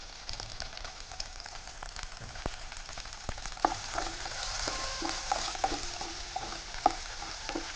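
Okra is stir-fried in a pan, giving a soft steady sizzle with scattered crackles and light scraping clicks from stirring, growing slightly busier toward the end.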